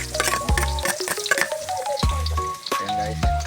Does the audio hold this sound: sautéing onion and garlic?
yes